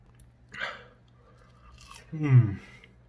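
Someone bites into juicy, crunchy chicken nuggets, giving two short close crunches, the second louder, with faint talk in the background.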